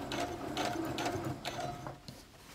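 A sewing machine stitches a seam on a drawstring bag with a rapid mechanical chatter, running in several short bursts separated by brief pauses.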